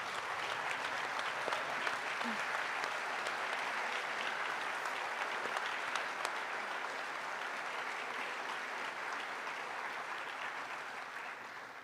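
Audience at an awards night applauding student athletes for their community dedication: steady, dense clapping from a large crowd that holds for the full length and fades slightly at the end.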